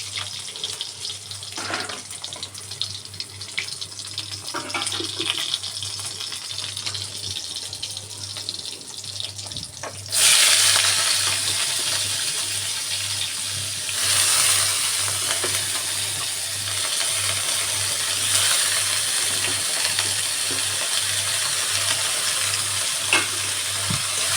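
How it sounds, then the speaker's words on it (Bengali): Bitter gourd fries in fat with black cumin seeds, a steady close sizzle that grows louder and brighter partway through as the pan hisses more strongly, with stirring and no talk. "কালো জিরে ফোড়ন দিয়ে আজকে উচ্ছেটা ভাজা করব।"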